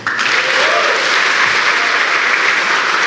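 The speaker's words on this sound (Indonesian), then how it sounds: "coba tepuk tangan." An audience at a stand-up comedy show breaks into sustained, dense applause that starts abruptly and holds steady and loud throughout, with no talking over it.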